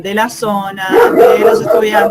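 Dogs bark and yip in the background while someone speaks over them, with short, sharp barks mixed into the talk nearby.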